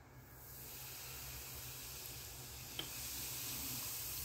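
A steady soft fizzing hiss from a carbonate stirred into a chemical reaction mixture while harvesting piezo crystal, continuous and close, with one brief click near the end.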